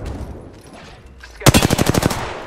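Rapid automatic gunfire from the video game Apex Legends bursts in loud and close after a quieter stretch of game ambience, about a dozen sharp shots in quick rhythmic succession.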